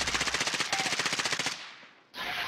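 Fast, steady machine-gun fire in a video game, a long burst of evenly spaced close shots that stops abruptly, then a brief lull before more game noise comes back.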